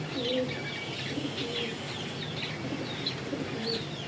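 Pigeons coo softly in a low, repeated murmur, with a few higher chirps and twitters from other birds scattered through a steady background hum.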